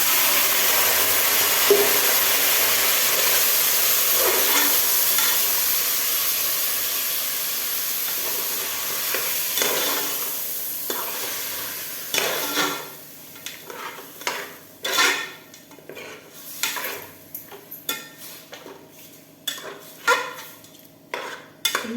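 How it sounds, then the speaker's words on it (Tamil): Washed chicken pieces drop into hot oil with mustard seeds and curry leaves in a pot, a loud hissing sizzle that fades, then metal spoon scrapes and clanks of stirring come in bursts, close by. "இனி கழுவி இருக்க கறியை உள்ளே போட்டுக்கலாம்"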